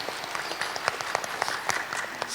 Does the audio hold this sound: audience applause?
yes